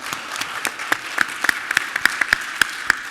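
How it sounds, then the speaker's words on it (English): A small game show audience gives a light round of applause for a contestant, with scattered individual claps forming a thin, moderately loud patter that holds steady without cheering. "Little applause for Craig."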